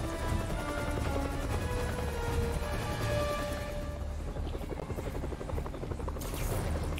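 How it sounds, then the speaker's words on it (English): Helicopter in Marvel's Spider-Man on PS4, a loud continuous rotor thrum with steady chopping pulses and engine whine filling the whole stretch. "A chopper?"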